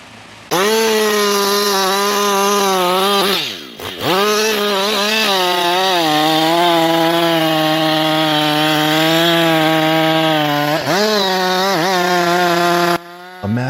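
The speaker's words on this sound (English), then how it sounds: "With the mighty Husqvarna chainsaw in hand, the operator begins the first deep cut." A Husqvarna chainsaw cuts into a massive tree trunk, its engine roaring steadily and loudly up close with a strong harmonic whine, dipping briefly near the start and again late in the cut before cutting off.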